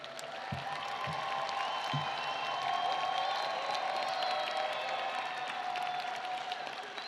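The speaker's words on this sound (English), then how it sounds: "Let's give them all another round of applause." A commencement crowd claps steadily for the whole stretch, a dense even applause with a few louder claps and faint cheers mixed in.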